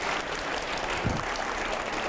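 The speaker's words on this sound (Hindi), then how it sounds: "जोरदार तालियां हो जाए, जोरदार तालियां" Audience applause breaks out at a televised news debate, a brief burst of steady clapping that fills the room with no talk.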